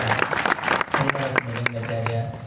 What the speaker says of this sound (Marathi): यांच्यासाठी जोरदार टाळ्या वाजवा